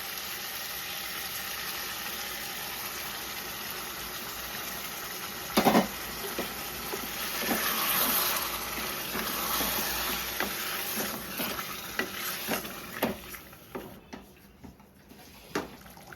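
Moderate sizzling of blended tomato puree frying with chicken in a pan, with intermittent stirring knocks and scrapes, the frying growing uneven and quieter toward the end.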